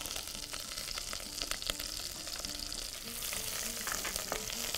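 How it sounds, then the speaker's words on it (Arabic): Garlic sizzles steadily in hot butter in a pan, a close, continuous crackling fry that holds at an even loudness throughout, with no voices. "كده الزبدة سخنت، نبتدي بقى نحط الثوم."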